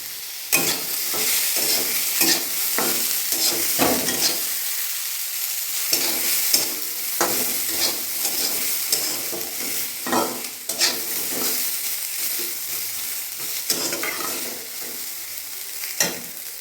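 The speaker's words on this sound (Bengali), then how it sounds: "এবার ছলাগুলো ভালো করে আলুর মধ্যে নাড়বে" Potatoes and chickpeas frying together in a pan, a continuous close sizzle broken by repeated rhythmic scrapes and knocks of a spatula stirring them through.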